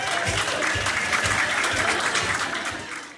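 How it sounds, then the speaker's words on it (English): A room of wedding guests at Panorama House clapping for the couple, with sustained, full applause riding over a steady, thumping low beat of party music. "Give them a round of applause."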